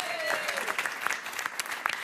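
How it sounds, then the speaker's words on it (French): Studio audience applauding a couple on a French dating game show, a steady dense patter of many hands, fairly close, with a faint voice briefly underneath. "On vous applaudit."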